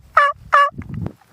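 A wild turkey calls during a spring hunt, two short, sharp, nearby gobbling bursts in quick succession, followed by soft low rustling.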